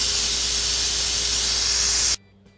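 Steam hisses loudly and steadily from a pressure cooker valve for about two seconds, then cuts off abruptly into near silence.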